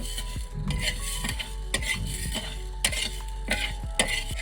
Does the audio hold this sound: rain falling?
no